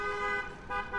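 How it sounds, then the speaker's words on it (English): A car horn honks from outside in the Cooking Simulator game, a steady, fairly loud tonal blare held for about a second with a short dip midway. "Oh yeah, you honking your horn out there?"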